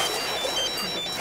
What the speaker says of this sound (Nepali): कसको फोन आयो यो?